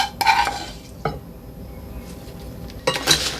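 A spoon scrapes and clinks against a bowl while potatoes are tossed in spiced garlic oil, a few sharp knocks spaced over a quiet background, close and moderately loud.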